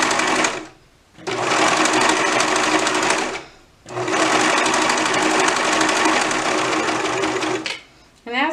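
A sewing machine stitches a dress in three loud, steady runs near the mic, separated by two short pauses, with a brief quieter moment at the end.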